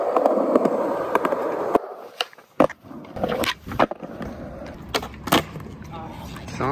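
Skateboard wheels rolling quietly along pavement, a soft continuous roll broken by sharp clacks and knocks from the board, with a person's voice partly heard over it.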